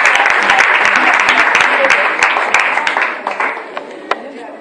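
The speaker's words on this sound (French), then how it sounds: "Bien aimés, on les acclame pour les encourager." An audience claps loudly and continuously to encourage performers, the dense applause thinning out toward a few scattered claps at the end.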